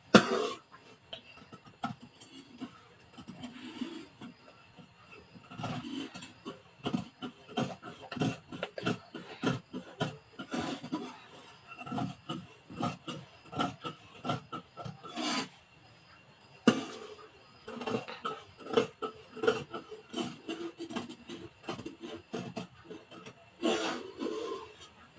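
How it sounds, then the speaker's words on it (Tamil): Scissors cut fabric for a baby frock: quiet, close runs of sharp snips and rubbing rustles in irregular bursts, with short pauses between cuts. "இது இப்போ வெட்டிக்கலாம்."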